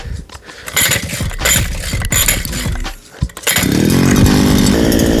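A petrol weed eater being started on its choke, rough sputtering pull-start rattles and brief revs, then the engine catches and runs loud and steady up close.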